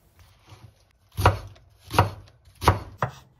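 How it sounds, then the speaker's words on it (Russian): Cabbage leaves are finely shredded with a knife on a cutting board: four crisp, evenly spaced chopping strokes, close and clear, with no voices. "Прижимаем листья и мелко шинкуем."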